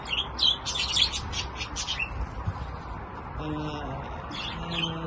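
Budgies chirping and squawking close by in a flurry of bright, overlapping calls at the start, then quieter scattered tweets over a low background hum.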